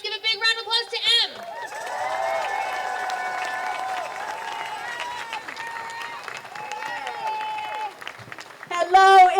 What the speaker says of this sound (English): let's give a big round of applause to M.